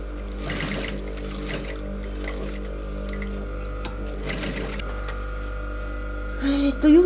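Sewing machine running in steady stitching bursts while sewing the corners of a bound buttonhole onto fabric, a busy mechanical whir that stops and restarts across the clip, close and fairly loud, with no talk.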